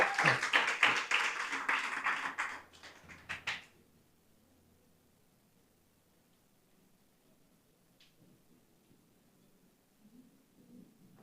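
Audience applause at a scholarship award ceremony as an honoree is called up, a burst of many hands clapping for about three seconds before dying away into near silence.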